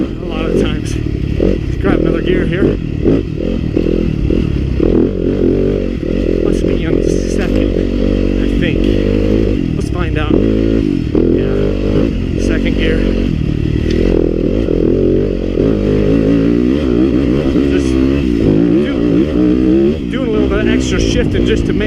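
A Yamaha YZ250FX 250 dirt bike runs loud and close throughout, its engine note rising and dropping as the rider shifts through the gears, with clattering and scraping mixed into the steady roar.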